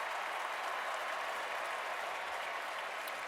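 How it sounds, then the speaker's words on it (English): A stadium crowd at a 2011 Big Ten college football game between Wisconsin and Michigan State applauds steadily, a dense, even wash of clapping that holds throughout. "Now take a look at Worthy, because you heard some applause in the background."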